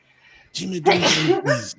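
A single loud, close sneeze with a sharp burst and a gasping trail, a voice speaking briefly alongside it.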